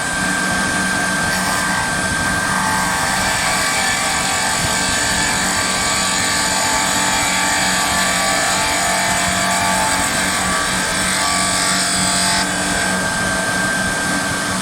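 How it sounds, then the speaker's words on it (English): Woodturning scraper tool doing a shear scrape on a lathe, a loud continuous whirring machine drone with a steady scraping texture throughout, no talk. "you can also do something called a shear scrape by angling or canting the tool on the side"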